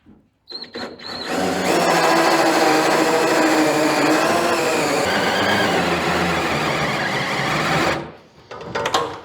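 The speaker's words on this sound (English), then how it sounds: "Get this last hole drilled approximately right there." A battery power drill with a short bit bores a hole during work on a 1940 Chevy coupe front clip. The motor starts after a couple of quick blips, then whines loud and steady for several seconds and cuts off, followed by brief rattling.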